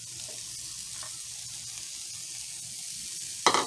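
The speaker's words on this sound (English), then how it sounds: "I'm going to go ahead and add my onions to one side of the pan." Onions sautéing in olive oil in a frying pan for a chopped cheese sandwich, a constant soft hiss of frying with light stirring, ending in a sharper, louder burst of sizzle, no talking.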